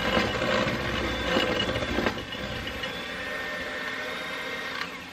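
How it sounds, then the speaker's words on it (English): A washing machine runs in a kitchen with a steady mechanical hum and rhythmic churning, fairly close and constant, with a few brief clunks near the start. "I don't want this washing machine being too loud"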